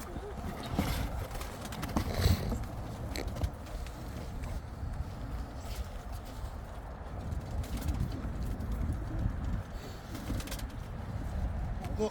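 Old pigeons coo softly amid rustling and shuffling, with people talking nearby throughout.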